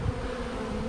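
A steady, close hum of wild bees from a cedar tree buzzes around a new hive box, a continuous droning tone throughout the short moment.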